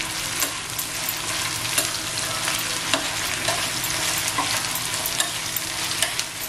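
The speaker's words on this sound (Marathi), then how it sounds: "ह्याच्यात हे जे आलं लसूण आणि मिरच्या वाटलेले आहेत ना ते टाकते। अच्छा, हे छान असं 1-2-3 मिनिटं फ्राय करून घ्यायचं." Ground ginger, garlic and green chili paste frying in a pan for kaleji liver masala fry, a loud, steady close sizzle with light stirring clicks throughout and no talking.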